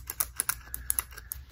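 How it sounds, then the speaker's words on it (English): Rapid, light plastic clicks of parts snapping into place on a Blinky Mine model kit, close and crisp, with no voices. "it's clicking in place when it gets to the right position."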